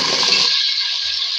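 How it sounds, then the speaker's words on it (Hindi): Potato pieces hit hot cooking oil for an aloo sem fry, giving a loud, continuous hissing sizzle that holds steady and slowly eases. "इसमें हम आलू ऐड करेंगे"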